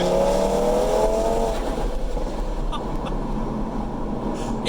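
Stage 3 Audi RS3 making over 700 hp roars loudly at close range, a steady engine and exhaust drone with a rising whine at the start and a few sharp crackles later.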